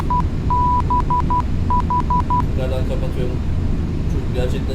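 Short ILS marker beacon beeps in a Boeing 737 flight simulator sound in an evenly spaced series over a low background hum, followed by fainter tones as a voice talks.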